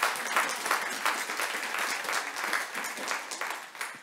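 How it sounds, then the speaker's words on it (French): Steady applause from a crowd fills the whole stretch, dense clapping at an even level with no voices rising above it. "On va prendre une seconde pour les applaudir."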